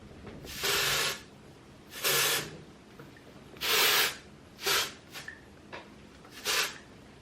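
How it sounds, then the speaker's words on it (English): Dry shampoo sprayed onto hair from an aerosol can in several close, airy hissing bursts of about a second each, then shorter puffs, with no talking. "I need a little bit of dry shampoo."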